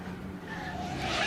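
The KCMG Porsche race car spins at the Nürburgring 24-hour race, tires skidding and squealing in a sustained rising screech over engine roar.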